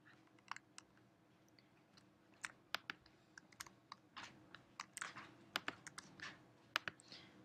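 Computer keyboard keys are pressed in quiet, scattered clicks that pick up into a quicker run of taps toward the end, with no voice over them.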